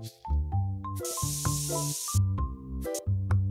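Spray hissing in the TCG Card Shop Simulator video game: a loud, broad hiss lasting about a second, set against game music with tonal notes and a steady low pulse.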